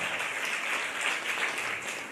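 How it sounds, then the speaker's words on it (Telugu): An audience at a Christian gospel church program in Hyderabad claps together in steady, sustained applause, moderately soft and without any talk. "फिर जोर से ताली बजाइए प्रभु यीशु मसीह के लिए"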